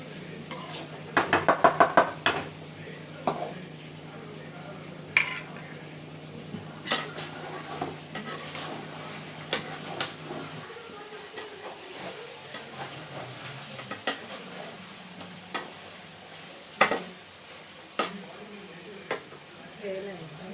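Mutton liver is stirred with salt and turmeric in a pan, giving intermittent, sharp scraping clicks of a spoon against metal over a low steady hum, close and fairly loud.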